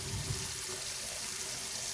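A tap runs steadily into a sink with a continuous splashing hiss while a hand is washed with soap and water.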